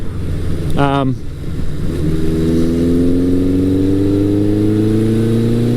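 1982 Suzuki GS1100 cafe racer engine running with full baffles, a loud close exhaust note that blips up and drops once, then climbs in a smooth steady rev over several seconds, with no speech over it.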